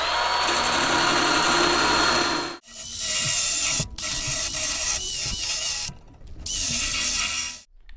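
A cheap Temu power tool with a spinning disc grinds and smooths a wheel axle, a harsh continuous whir that breaks off and restarts several times with short pauses between bursts.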